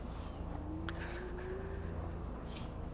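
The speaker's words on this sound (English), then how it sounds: "Let's go ahead and test the throttle from a standstill here." A Lectric ONE e-bike pulls away on throttle from a standstill, its motor whine rising steadily in pitch under heavy wind rumble, with a faint tick or two.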